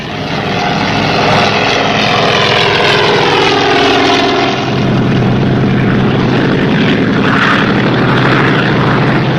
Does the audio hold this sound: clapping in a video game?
no